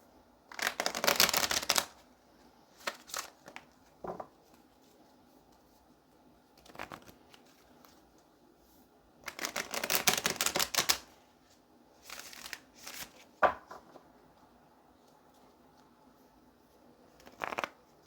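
Tarot cards are shuffled in several quick riffling bursts, crisp and close, separated by quiet pauses and a few soft taps.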